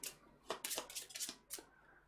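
A deck of board game cards is shuffled at a table in a few quick, soft riffling bursts, close and quiet, with no talk.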